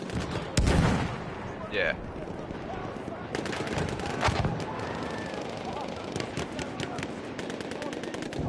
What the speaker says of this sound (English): Plus, they also got that artillery gun going.